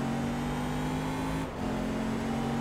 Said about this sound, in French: la GT40, c'est une voiture ultra compliquée à manier